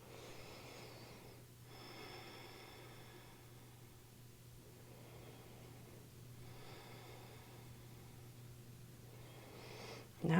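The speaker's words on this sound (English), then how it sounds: "A few breaths right here" Slow, deep breaths in a yoga flow, long soft airy inhales and exhales over a low steady hum, close and quiet, no talking.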